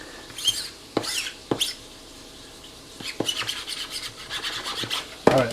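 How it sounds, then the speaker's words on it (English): A knife roughly chopping garlic on a cutting board, a few sharp separate taps at first, then a quicker, irregular run of close chopping strikes and scraping. "We don't need to go crazy with the chop."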